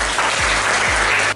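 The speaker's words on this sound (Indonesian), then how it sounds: "oke, tepuk tangan." Schoolchildren clapping in a classroom, a loud, dense burst of applause that lasts the whole moment, with no talking over it.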